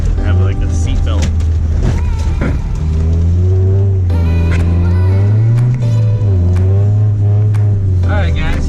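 A Honda Integra's engine revs loudly while drifting, rising and falling in long sweeps under the strain, with people talking over it throughout.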